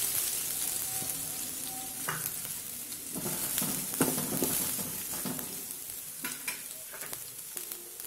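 Mustard seeds and chopped onion sizzle and crackle in hot oil, with constant hissing and scattered sharp pops, close up and without speech.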